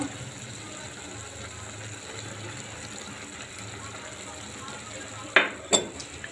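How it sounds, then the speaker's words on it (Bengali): Beaten egg with black pepper is stirred into tender bottle gourd frying in a pan, giving a steady soft sizzle and scraping hiss, then two sharp utensil knocks against the pan near the end. "এখন আমি ডিমটা একসাথে দিয়ে দিব"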